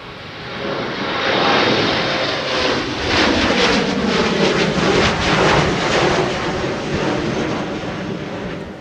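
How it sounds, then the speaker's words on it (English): A SkyWest Embraer regional jet takes off at Minneapolis–St. Paul Airport, its engine roar swelling from a distance to a loud, broad, rushing thunder that holds steady, with no voices. "here we got SkyWest 3753 rocketing off for Cleveland Hopkins International Airport with November 241 Sierra Yankee, an Embraer in charge"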